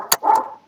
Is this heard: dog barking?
yes